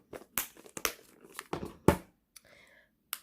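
Gold nail art foils handled up close for a marble nail design, sounding as crisp crinkling and rustling bursts in short bunches with quiet gaps between.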